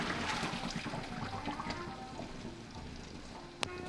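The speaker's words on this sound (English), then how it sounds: "you want to rinse the pasta off in running water" Cooked pasta rinsed under a stream of warm running tap water in a kitchen sink, a steady close splashing rush that holds for a few seconds, with a single sharp knock near the end.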